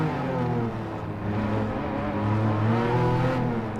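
A Porsche 911 Carrera RS (964) engine in Gran Turismo 7 revs high and steady for several seconds, a dense harmonic drone that swells slightly toward the end, with no talk over it.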